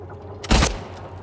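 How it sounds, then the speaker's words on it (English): Gunfire in the Silent Hill 2 Remake video game: a single loud, booming burst of shots cuts in briefly, then fades into a low, steady background hum. "I should be able to fire the first couple of shots and then rush in."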